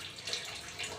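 Low, weak water flow hisses steadily from a leaking bathroom tap as it is unscrewed with an adjustable wrench, a soft continuous close rush without voices.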